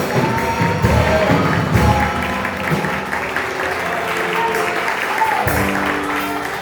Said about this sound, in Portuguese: Você pode aplaudir Jesus nessa noite?